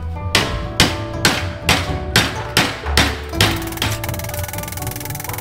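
Metal rings under a series of sharp, evenly spaced ball peen hammer strikes curving the end of a metal piece, about eight blows in steady rhythm, close and loud.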